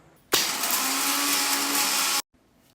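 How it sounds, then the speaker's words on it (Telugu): A mixer grinder runs loud and steady for about two seconds, grinding homemade traditional kumkum powder with a little ghee. It switches on abruptly and cuts off sharply, with no voices. "So mixie పట్టేసాను."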